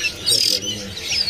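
A young magpie robin (kacer) chick gives high, thin chirps in short bursts, close and fairly loud, with faint murmuring of people in the background.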